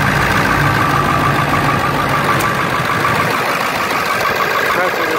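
A 2001 Ford F250 7.3L diesel pickup idles steadily with the AC compressor running, a loud continuous engine drone with a faint rattle, while a person talks nearby.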